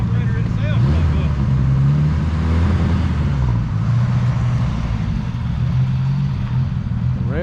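A 1987 Ford F150 pickup engine idles and runs loudly after carburetor work, a steady rough rumble heard up close with people talking over it.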